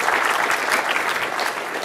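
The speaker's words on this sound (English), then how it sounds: "I want to give the networking gentleman a round of applause" Audience applause at a technology conference session, a dense, loud burst of clapping from a crowd, brief and continuous with no speech.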